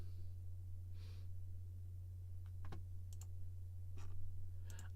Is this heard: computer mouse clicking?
yes